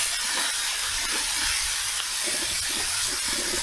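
Meat sizzling on a Blackstone griddle for an egg roll in a bowl, a loud steady hiss close by and alone, without talk.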